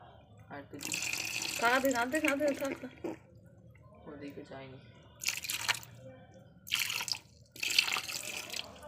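Tap water runs and splashes in bursts into a sink while live fish are washed, with clattering and someone talking between the gushes.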